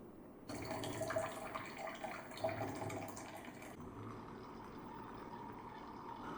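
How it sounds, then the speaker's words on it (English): Electactic coffee maker (CM9440-UL / CM3740) running water through during descaling, with a steady rushing, splashing flow that starts abruptly, surges briefly and then settles into a softer, continuous trickle, fairly quiet and without talk. "Turn on the machine to begin the flow."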